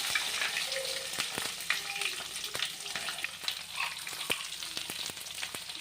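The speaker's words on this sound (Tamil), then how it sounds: "இப்போ நம்ம வெங்காயமும் பச்சை மிளகாயும் போட்டு" Onions and green chilies fry in hot oil with curry leaves for a Chettinad vegetarian curry. A steady close sizzle is broken by scattered stirring clicks, with no talk.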